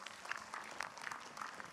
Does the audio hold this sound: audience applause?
yes